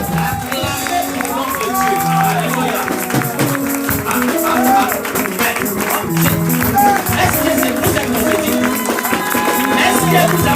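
A church congregation applauding and cheering for a prophet, dense continuous clapping and crowd noise over loud music, sustained and fairly close throughout.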